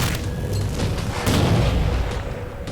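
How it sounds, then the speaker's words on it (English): Grenade explosions in Halo 4 gameplay, heavy rumbling booms that roll and overlap into a dense, loud wash of blast noise with no talking. "They're throwing grenades"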